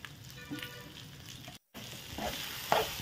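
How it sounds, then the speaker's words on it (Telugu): A spoon scrapes and stirs hot tempering into a mango and brinjal pickle, giving a steady close-up churning with light sizzling and occasional sharper clinks, and no talking. "బాగా పచ్చడి పట్టేలాగా పోపులు బాగా కలపాలి."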